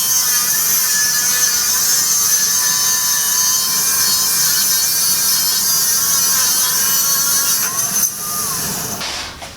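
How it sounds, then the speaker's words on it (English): An angle grinder cuts steel gusset pieces in a shop during a 1929 Ford Model A hot rod truck rebuild, a loud continuous high whine and hiss holding steady for about eight seconds before easing off near the end. "so it's onto the grinder again"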